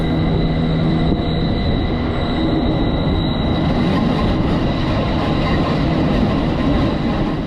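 Loud, steady rumble of a moving train from inside a carriage near the Lauterbrunnen valley in Switzerland, constant rolling wheel noise with a faint high squeal, no voices.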